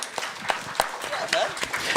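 An audience claps in a live show setting with dense, steady applause mixed with talk and cheering voices, fairly close and moderately loud throughout.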